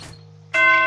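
A modded doorbell in the survival game 7 Days To Die gives a single bright chime: a short initial strike, a held tone, then a louder rich ding with layered harmonics that rings out clearly with no talk.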